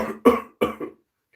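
A voice imitates a robotic character's cough, a short series of raspy coughs, three quick hacking bursts close up, followed by silence.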